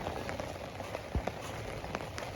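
Heavy rain falls over rice paddies, a steady broadband patter broken by scattered sharper drops and a low thud, with no talking.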